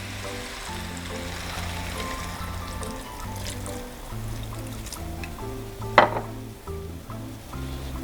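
Water is poured into a pan of pea leaf and potato curry, producing a continuous trickling stream with a soft sizzle. A brief louder splash comes near the end, and a low steady hum runs beneath.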